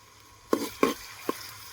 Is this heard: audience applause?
no